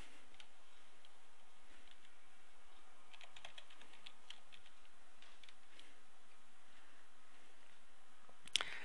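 Quiet, rapid typing on a computer keyboard while entering a forum username and password, with soft irregular key clicks close by and a single sharper click near the end.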